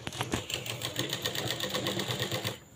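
Sewing machine stitching a triangular seam on a latkan tassel, a steady rapid needle chatter running continuously and close up, ending abruptly with a brief pause.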